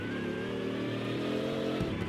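Engine of a car driven in the mobile game Vehicle Legend, a steady loud motor drone with shifting revs throughout, close and continuous with no voices.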